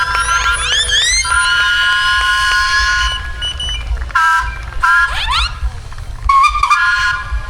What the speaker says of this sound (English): Big whistle up, please.